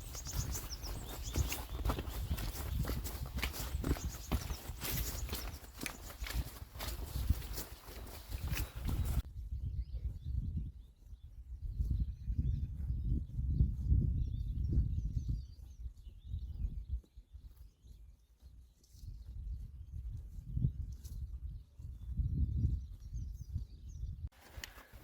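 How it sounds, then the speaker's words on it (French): Cows graze nearby, tearing grass in repeated rhythmic crunching rips, close and fairly soft over outdoor ambience with some birdsong. "J'avais jamais remarqué que les vaches faisaient autant de bruit en broutant."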